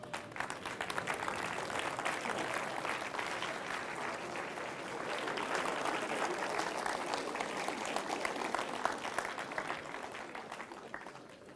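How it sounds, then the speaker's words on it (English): An audience at a conference applauds in a standing ovation, a dense sustained wash of clapping that holds steady throughout and tails off slightly at the end. "Give yourselves a round of applause."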